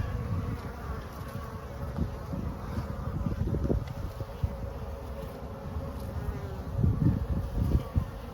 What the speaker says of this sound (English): They're out buzzing about, which is nice, checking things out.